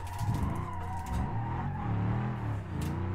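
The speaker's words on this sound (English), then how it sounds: "I can actually drive a drift car in Beam" A drift car in the BeamNG driving game holds a steady engine drone with shifting pitch as it slides, while tire skid noise runs underneath; continuous and fairly loud, with no voices.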